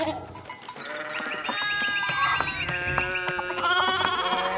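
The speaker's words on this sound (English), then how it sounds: "They gotta get these sheep under control." Several sheep bleat in overlapping, wavering calls in the medieval abbey village of Pentiment, with layered bleats rising and falling over a busy farmyard backdrop, loud and close for the whole stretch.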